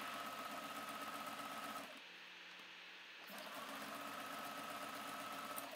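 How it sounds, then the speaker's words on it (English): Sewing machine stitching through a blue vellum tab on a handmade junk journal card, a steady mechanical whirring hum that pauses briefly midway, then resumes at the same even pace. "I'm gonna sew through the tab, sorry, the blue vellum tab"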